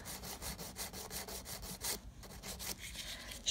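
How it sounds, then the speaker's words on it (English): A nail file strokes rhythmically along the sidewalls of a sculptured acrylic nail in quick, close, scratchy back-and-forth rasps, with a brief pause partway through. "very gently filing my sidewalls"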